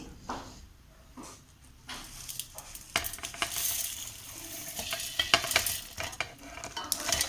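Spices tipped into a pan for a Bengali crab curry are stirred with a utensil, scraping and clinking against the metal over a soft frying sizzle that swells as stirring continues.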